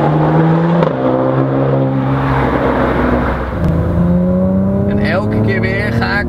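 A Porsche Macan Turbo SUV engine revs hard, its deep exhaust note rising and falling through gear changes, loud and close throughout.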